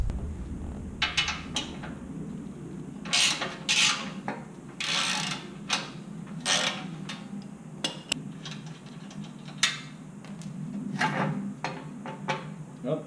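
Sockets and a ratchet working 16mm bolts loose from the bumper of a two-door Jeep JL, giving intermittent clicks, scrapes and metallic knocks at close range.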